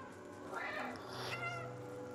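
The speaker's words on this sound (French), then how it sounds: "Vas-y, moi je fais que de miauler." A short pair of rising meows from the cat in the video game Stray, clear and fairly close over a soft ambient backdrop.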